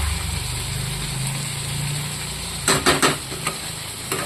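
Potatoes and onions frying in a pan for a chicken curry, a loud low steady sizzle and hum, then several close scraping stirs and clanks of a spatula near the end, with no talk.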